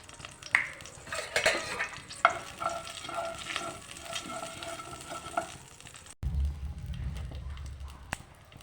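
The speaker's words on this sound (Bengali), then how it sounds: "গোটা রাঁধুনি আর শুকনো লঙ্কা ফোড়ন দিয়ে দিলাম।" Whole radhuni seeds and dried chillies sizzle in hot oil for a prawn dish, a crackling fry with utensil clinks and scraping up close, then a sudden low rumble near the end.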